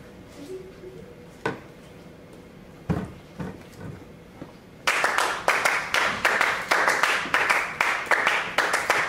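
Four performers clap the piece Clap Music: a few scattered claps first, then a dense, steady interlocking rhythm of sharp claps, close and lively, with no talk over it.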